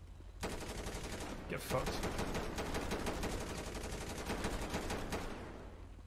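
Rapid automatic gunfire from an AR rifle loaded with incendiary rounds in GTA V, a loud, dense burst of shots that lasts several seconds, while someone shouts briefly over the shooting.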